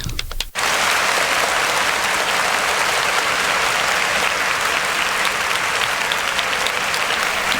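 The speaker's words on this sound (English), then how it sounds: "We got to give you a round of applause." A live radio program audience breaks into loud, dense applause for a departing guest, the clapping starting abruptly and holding steady throughout.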